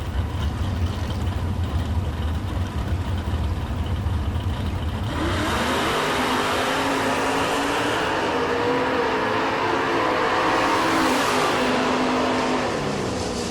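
A Chevy Camaro launches down a drag strip at the Northeast Sportsman Nationals, a roaring engine swelling in after a quieter lead-in and holding a loud, rising howl as the car accelerates away.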